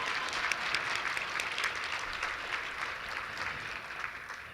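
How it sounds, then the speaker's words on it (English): An audience at a nonprofit event applauds Claudia with steady, even clapping from a moderate-sized crowd, heard at a slight distance and without a break for several seconds. "Let's clap for Claudia."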